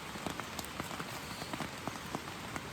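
Steady rain falling on a surface outdoors, a constant soft hiss broken by scattered raindrop taps, with no talking.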